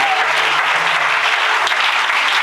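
A church congregation applauds steadily for the whole stretch, dense clapping close and loud, acclaiming Jesus during a French-language service, with no talk over it.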